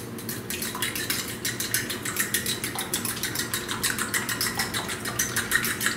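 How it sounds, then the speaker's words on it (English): Whisk clatters rapidly against a bowl while beating eggs with cream, feta cheese, salt and pepper, a steady close-up rhythm of metallic clicks with no talking. "you just mix enough to make sure that the egg whites and the egg yolks are totally mixed"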